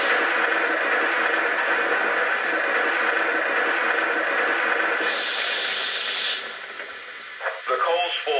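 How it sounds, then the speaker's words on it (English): A dense, steady rushing rattle of coal pouring into a model steam locomotive's tender for several seconds, then it thins out and a few brief clunks follow. "Here's the sound of coal being added to the tender."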